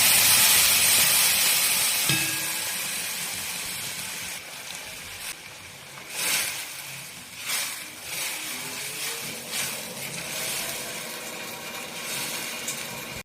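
Onion chutney hits a hot tempering of mustard seeds and lentils, a loud sizzling hiss that flares at first, then settles into quieter crackles with a few sharp spits.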